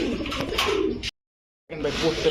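Pakistani Teddy and Giribaz pigeons coo close by in a loft, a dense, loud burst of cooing broken by a brief silence before resuming.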